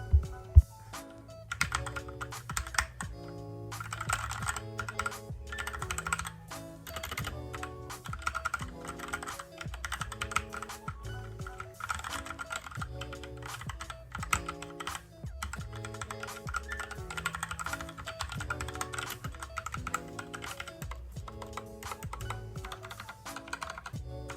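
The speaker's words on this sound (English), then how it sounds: "now I'm gonna be showing you guys the sound of this keyboard." Continuous typing on a Redragon Kumara K552 mechanical keyboard, brisk clacky keystrokes in quick irregular bursts with occasional louder thocks, close and alone for over twenty seconds.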